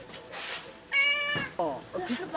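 A large cat meows loudly from inside a small carrying cage, giving two or three drawn-out, strained cries close by, with people talking around it.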